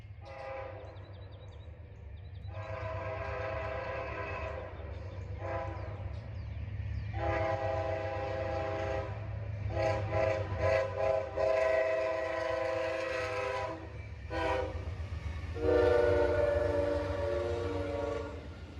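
An Amtrak southbound Silver Star passenger train passes at dawn, sounding its horn in several long, loud blasts over a steady rumble of wheels and engine. Shorter toots near the end give way to a fading roar.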